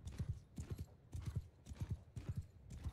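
Horse hooves in the Bannerlord online PvP battle game, a steady galloping clip-clop in repeated triplet beats, fairly close and moderately quiet, with no talk over it.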